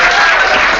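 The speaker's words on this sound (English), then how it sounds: "We ask you to refrain from clapping or any of those things" An audience at a Vermont legislative committee meeting on publicly financed healthcare breaks into loud, dense clapping, a brief continuous burst of many hands.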